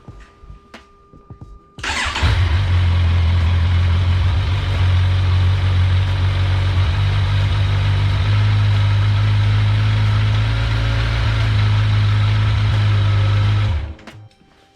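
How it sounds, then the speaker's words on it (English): A Kawasaki motorcycle on its original stock exhaust starts abruptly and settles into a loud, steady, close idle with a deep low rumble, then cuts off sharply near the end. "this is what the original exhaust system sounds like"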